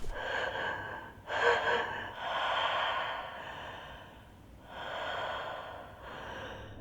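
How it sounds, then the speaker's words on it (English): Shallow, uneven breaths from a female character in a sterile room with a large ventilation hood in a Silent Hill game, a series of soft airy inhales and exhales with short gaps, fairly quiet and close, with no talking. "you can hear the sounds of Eileen's shallow breathing"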